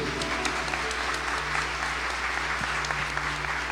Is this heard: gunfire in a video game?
no